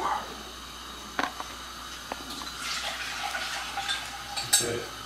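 A cooking pan is handled for broth on a kitchen stovetop, with scattered metallic knocks and scrapes over a faint watery wash, ending in a sharper clatter.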